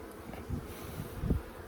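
Honeybees buzzing during a farm hive inspection, a faint steady hum with a few louder passes as individual bees fly close, no voices present.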